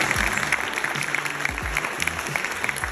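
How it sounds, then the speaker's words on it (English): Audience applause for panelists at a 2023 data science and AI week launch, with steady clapping from a room of people and a low thumping underneath. "Can we give them all a round of applause?"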